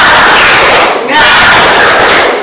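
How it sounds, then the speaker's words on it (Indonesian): A classroom group does a rhythmic spirit clap together, with loud, dense clapping and shouted chanting from many voices close by, briefly dipping midway before surging again. "Kita tepuk semangat yes ya."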